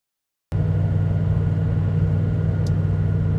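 Inside a car cabin fitted with sound deadening, cruising at 100 km/h on a calm night, a steady low road rumble and drone sets in abruptly after a short silence and holds evenly.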